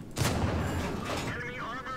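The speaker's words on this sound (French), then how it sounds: "écouter surtout le bruit des canons" Tank cannon fire in World of Tanks: a loud broadband blast near the start followed by a long rumbling decay, with a second softer report later and faint mechanical tones trailing off.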